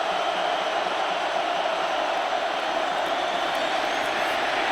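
A packed stadium crowd at a 2006 Michigan versus Ohio State college football game roars in a dense, steady, loud wall of noise, with no clear breaks.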